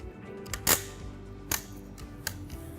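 Ratcheting dial tightening the claw of a bike rack fitted to a Porsche 911, giving a few sharp, separate clicks spaced irregularly over a quiet background, fairly close and moderately loud.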